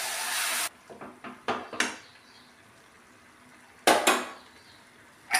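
A metal spoon scrapes and clanks against a pressure cooker pot while mutton is stirred with fried onions, in a few loud bursts separated by quiet gaps.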